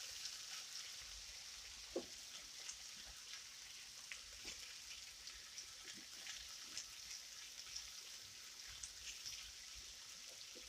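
Potatoes and onions frying in a pan, sizzling softly and steadily with occasional scrapes and clicks of stirring and flipping, faint and close.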